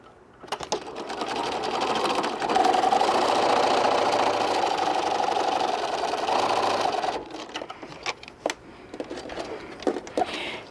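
A sewing machine stitches through fabric for a bag project with a cat sitting on the threads, running steadily and close for several seconds, then stopping and giving way to short clicks and handling noises.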